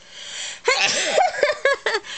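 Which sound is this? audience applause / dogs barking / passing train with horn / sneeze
sneeze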